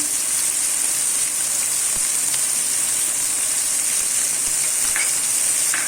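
Spices, turmeric, coriander powder and ground red chili, sizzle loudly in hot oil, a dense continuous crackling hiss held steady throughout, close and alone with no talking.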